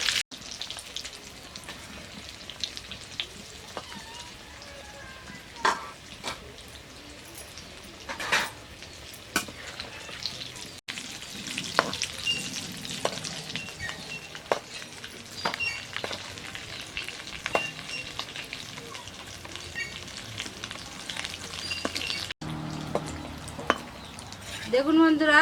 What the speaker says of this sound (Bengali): একদম ধীরে ধীরে মুচমুচে করে ভেজে নিতে হবে